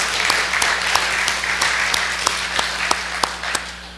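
A church congregation claps for its preaching team, giving a steady round of applause with a few sharper individual claps standing out near the end as it starts to thin.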